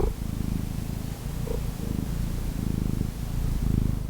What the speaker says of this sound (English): You guys wanna hear her purr?